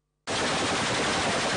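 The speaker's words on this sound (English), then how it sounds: "the sound of gunfire is echoing louder than the voices of protests" Rapid automatic gunfire erupts suddenly in Syria after a brief silence and continues as a loud, dense, continuous burst.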